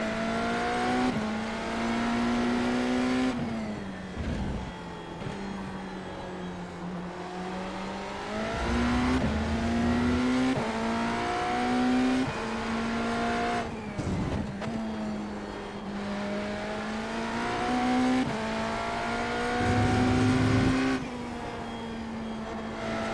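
A hypercar engine races around the Catalunya circuit in a racing video game, its steady loud drone rising and falling in pitch through gear shifts and corners, with brief dips and other cars heard nearby.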